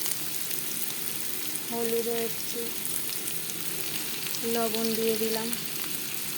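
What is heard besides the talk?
potatoes frying in a pan, stirred with a spatula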